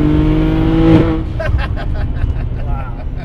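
An 830 WHP BMW 335i with a 68 mm inducer turbo accelerating hard on a runway, loud engine roar that cuts off and gives way to crackles and pops, with people talking over it.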